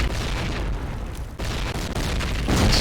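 A spread of grenades goes off during a competitive Call of Duty match, making a loud, continuous roar of booming blasts that barely lets up for the whole stretch.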